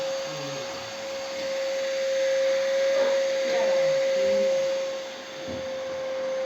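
A vacuum cleaner runs steadily with a constant droning whine, its loudness swelling and dipping slightly as it moves around nearby.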